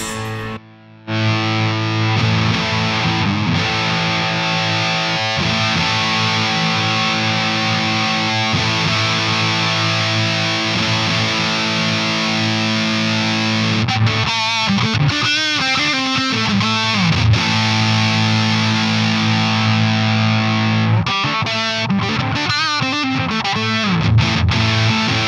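An electric guitar played through a Warlow Fuzz Monstrosity fuzz distortion pedal, sustained woolly chords and bending notes, loud and thick, with no voices.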